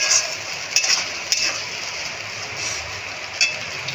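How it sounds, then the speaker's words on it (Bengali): Chopped tomato sizzling steadily in hot oil in a pan while being cooked down for a katla fish curry, with a continuous close frying hiss and a few light clinks of a utensil. "এর মধ্যে আমি টমেটো কুচিটাও দিয়ে দেবো। এটা ভালো করে কষিয়ে নেব।"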